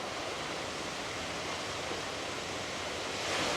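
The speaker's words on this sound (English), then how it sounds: "Melincourt Waterfall" Melincourt Waterfall in the Neath Valley, Wales, heard from a distance as a steady, even wash of falling water, constant and unbroken for a few seconds.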